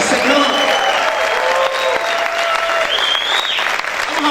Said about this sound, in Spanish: ¿Cuántos pueden gritar y aplaudir fuerte al Señor?